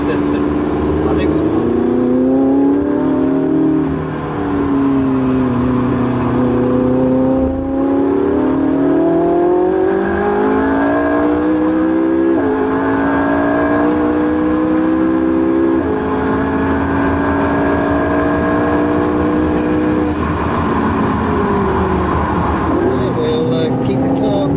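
A McLaren 675LT's engine howls on a race track, its pitch sweeping up and down through repeated revs and gear changes in a loud, continuous drone, with voices talking over it.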